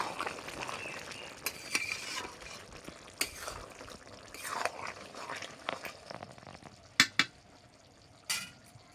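Chicken slowly sautéing in a pan on a winter afternoon, a soft continuous sizzle broken by clinks and scrapes of a spoon stirring against the pot, with a few sharper knocks near the end and no talking.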